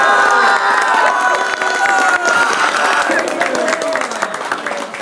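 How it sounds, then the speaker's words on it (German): A school crowd at the John F. Kennedy Schule in Bad Vilbel claps and cheers loudly and continuously, with children's shouts and whoops mixed into dense applause close by. "ob das ein angemessener Applaus für ein 1:1 in Augsburg ist"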